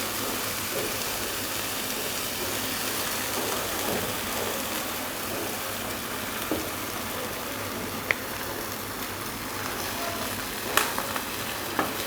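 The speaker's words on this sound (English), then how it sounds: "And now I'm going to add the eggs." Eggs frying in a hot pan give off a dense, even sizzle that holds steady and close, with a few small clicks near the end and no speech.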